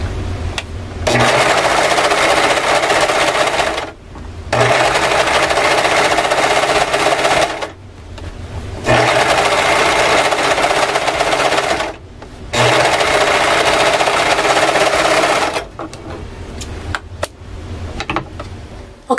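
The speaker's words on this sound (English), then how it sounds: "this is the perfect time to go ahead and serge your raw edges" A serger overlocks the raw edges on the seams of a knit top. It runs in four long, loud, steady stitching bursts separated by brief pauses, then a quieter stretch at the end.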